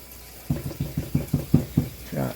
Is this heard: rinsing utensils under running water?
yes